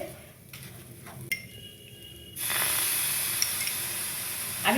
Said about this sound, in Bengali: একদম নেড়ে নেড়ে পুরো ঝরঝরা ভাবে পোলাওটা হবে